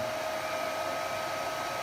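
A 2 kW hair dryer running as a test load, a steady, loud, broadband whoosh of blowing air with a faint motor whine, continuous and unchanging throughout, no voices.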